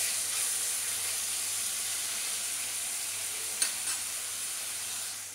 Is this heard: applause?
no